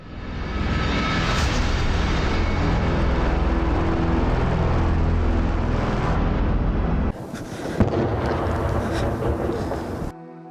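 A small aircraft passes overhead above a town during winter, heard as a loud, steady broadband roar mixed with wind buffeting for about seven seconds. It then gives way to a rougher, fluctuating stretch of noise.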